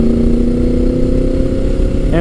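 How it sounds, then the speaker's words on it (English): A Honda VFR800 motorcycle, fifth generation from 1998–2001, runs with a steady, loud engine drone close by, holding an even tone throughout with a slight change right at the end. "the VFR is that it has that engine that is so soulful and really has such nice character to it"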